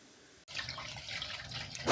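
Engine coolant gushes out of a disconnected cooling return hose on a Mazda RX8 and splashes onto the floor, a close, steady trickling and splattering that starts abruptly after a brief pause and swells at the end.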